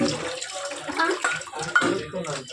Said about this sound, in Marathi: एका पाण्याने अजून स्वच्छ धुवून घेणार आहोत.